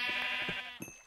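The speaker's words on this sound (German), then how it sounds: "Schafe! Ist kein Monster." A Minecraft sheep bleats in short harmonic cries, a few quick wavering calls heard close and clear with no talk over them.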